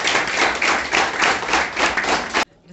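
An audience claps for the medics in Karakol, a dense, loud burst of applause that swells in waves for over two seconds and then cuts off sharply.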